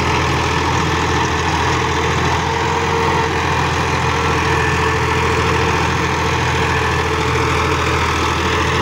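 A 2024 Massey Ferguson 260 Special Edition tractor idles steadily, its low diesel rumble loud and close and continuous throughout, with no voices.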